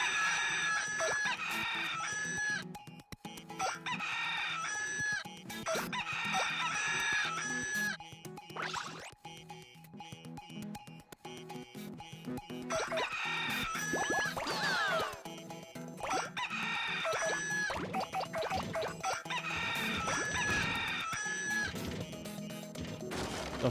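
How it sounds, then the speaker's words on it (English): Chickens cluck and a rooster crows repeatedly in a looping pattern, with sharp crash-like hits and other game-style effects mixed in, busy and loud throughout. "Chickens."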